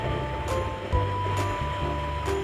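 Flood water rushes through the main streets near Lubuk Sikaping market during heavy rain, a steady, full roar of moving water with a low hum beneath it and no speech.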